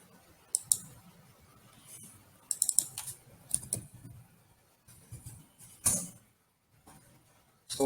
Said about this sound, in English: So that I'm typing dashboard here.